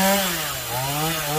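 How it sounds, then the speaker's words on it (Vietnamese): A chainsaw cuts through a dying, leaning Phoenix tree in a temple yard, the engine loud and close, holding a steady whine that dips and rises as it bites the wood, with no talk. "mời quý cô chú anh chị và các bạn cùng theo dõi cái quá trình cưa cái cây này với mình nha"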